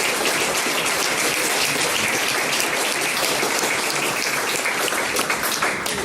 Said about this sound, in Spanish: Un fuerte aplauso al Señor, mis hermanos.